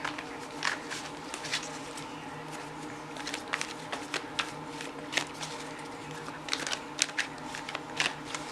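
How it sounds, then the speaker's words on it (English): Tarot cards being shuffled by hand, a steady stream of soft papery riffles and flicks with sharper snaps now and then, close and fairly quiet, with no talking. "I am going to be shuffling off screen to get your tarot cards"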